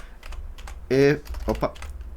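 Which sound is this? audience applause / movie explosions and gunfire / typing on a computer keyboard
typing on a computer keyboard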